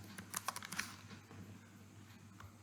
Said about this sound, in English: I'll type the name here, then I'll type first instance EC2